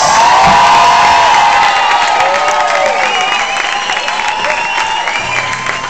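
Concert crowd cheering loudly for a guitarist, whoops and shouts layered over continuous applause, a dense, roaring mass of sound that holds strong throughout and eases slightly toward the end.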